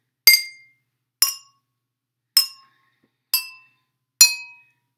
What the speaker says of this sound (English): listen to the sound when I tap the glass